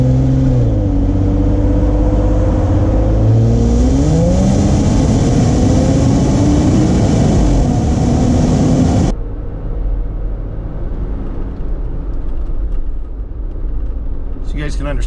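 A 2020 Jeep JLUR with K&N exhaust revs hard through several rising pulls with gear changes, recorded from outside at the rear, then cuts abruptly to a quieter cabin rumble.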